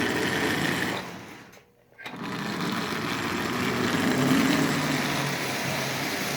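A Marx prewar Commodore Vanderbilt toy train running at low power with a once-missing brush plate, giving a close, steady high-pitched motor whir that briefly drops out and then resumes, with no talking.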